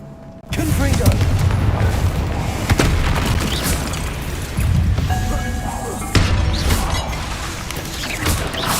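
Blasting spell explosions in Hogwarts Legacy, a loud sudden boom followed by sustained rumbling and crashing debris, with further heavy impacts partway through and again near six seconds; a voice speaks faintly underneath.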